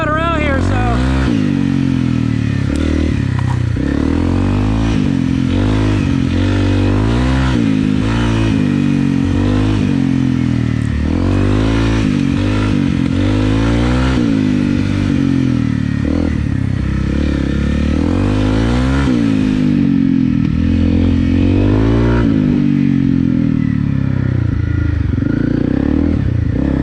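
A Honda CRF 250 Rally motorcycle ridden on gravel trails, its engine revving up and down in repeated surges, loud and close throughout, with clattering gravel under the tyres.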